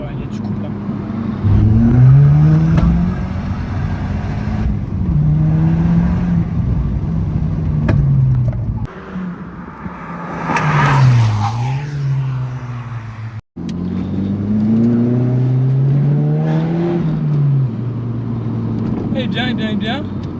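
A Volkswagen Polo R WRC with a stage 2 tune, rated at 386 hp, pulls hard through the gears, its engine note rising and dropping in repeated loud sweeps from inside the car, with people talking over it.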